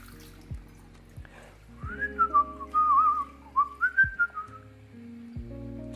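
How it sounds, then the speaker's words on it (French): A man whistling a wandering tune with little trills and variations, clear and close in a quiet kitchen, with faint clinks and water sounds beneath. "Les vieux, ils sifflent comme ça souvent."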